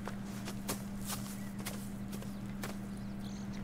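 Horse hooves clip-clopping in Red Dead Redemption 2, a steady run of soft, evenly spaced hoof hits over a constant low hum, with no talk.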